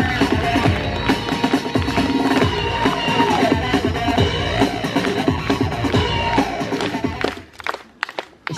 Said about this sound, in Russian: Аплодисменты, я умоляю!